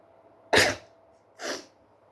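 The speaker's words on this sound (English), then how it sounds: "You all know, when you sneeze" Two sharp, explosive bursts of a single person's sneeze-like noise about a second apart, the first louder and the second softer, alone against a quiet room background.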